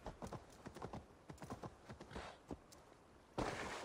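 A horse's hooves clip-clop in Assassin's Creed Valhalla, a quick irregular run of close, sharp strikes that thins out and pauses before a sudden burst of broadband noise at the end.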